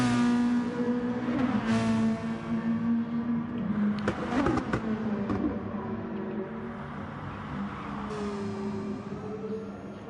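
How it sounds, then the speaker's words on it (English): A steady engine drone on board a race car during a lap at the ARC 1.5 Hours of Alsace, pitch shifting as it accelerates and eases off, with brief rattling clatter midway. "It's just listen to how quiet this engine is."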